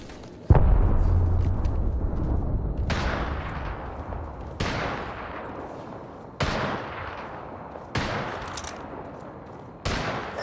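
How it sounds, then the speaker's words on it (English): Repeated blasts in a video game shootout, each a sharp loud boom that decays into a long rumbling tail, five or six spaced a couple of seconds apart, with the first hit the heaviest. "Grenade."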